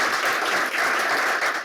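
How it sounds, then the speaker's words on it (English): An audience at a sales-careers event applauds, a dense, steady wash of many hands clapping together that holds evenly and tapers off at the very end. "can we give Katie a big round of applause?"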